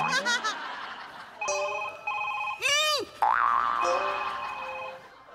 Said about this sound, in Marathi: पुतल्याचा फोन वाजतोय.